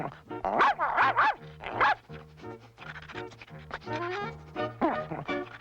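Cartoon dog from the Smurfs sniffing and barking excitedly on a scent, a run of close yips and barks over a steady animated score.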